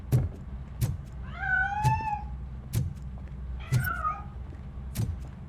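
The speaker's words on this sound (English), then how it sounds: "I think it's coming from the piano. That cat must be hiding inside." A cat hiding inside a piano in RoboCop Rogue City meows twice as it escapes, its drawn-out cries rising over a steady run of dull rhythmic thumps.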